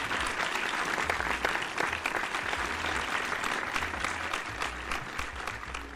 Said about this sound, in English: I'm going to give myself a round of applause.